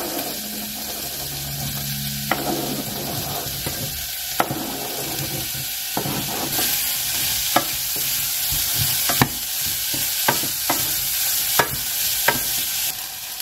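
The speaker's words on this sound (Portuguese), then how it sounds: "Pronto, já tá tudo refogado" Chopped carrot being sautéed in a pan, a steady soft sizzle under repeated scraping stirs and occasional sharp utensil taps against the pan, close and continuous with no talk.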